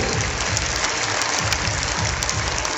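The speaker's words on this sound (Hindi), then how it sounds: "तालियों की गड़गड़ाहट होना चाहिए" Applause from the audience at a school annual gathering after a best student award, a dense steady wash of clapping with a low crowd rumble underneath.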